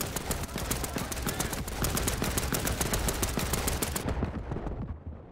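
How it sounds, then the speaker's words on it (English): A machine gun fires in the video game Land of War, a loud, rapid, unbroken burst of shots for about four seconds before the sound drops away. "Get on that machine gun."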